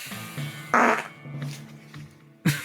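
A fart sound effect serves as a timer on a comedy podcast, a few loud sputtering blasts in quick succession, with a short burst at the very end.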